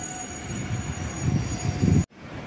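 Nagercoil Express train rumbling steadily at Balaramapuram station, a continuous rolling clatter of wheels and carriages that swells slightly before cutting off abruptly near the end.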